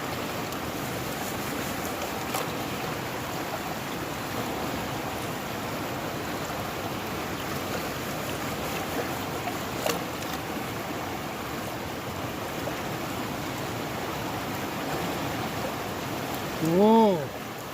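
Water sloshing and trickling steadily through a gold pan in a stream, a continuous near wash of flowing water, with a brief tonal voice rising near the end.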